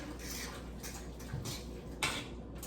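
Lasagna sauce is stirred in a pot with a few soft scraping swishes and a sharper utensil clink near the end, fairly faint.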